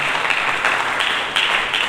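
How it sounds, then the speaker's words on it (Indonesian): A church congregation applauding Jesus Christ during a sermon, a dense, steady wash of many hands clapping that fills the room, loud and continuous. "Berikan tepuk tangan bagi Yesus Kristus."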